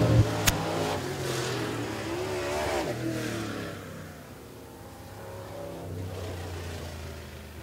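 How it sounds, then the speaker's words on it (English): Super late model race cars roar around Richmond Raceway, a steady, loud engine drone that swells and then eases slightly as the cars pass, with no talk. "Derek Fisher is going to win the second last chance race."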